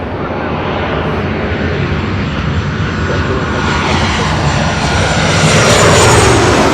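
A British Airways airliner roars down the north side runway at LAX on takeoff, a loud, steady, broadband engine rush that swells toward the end, heard from nearby with no talk.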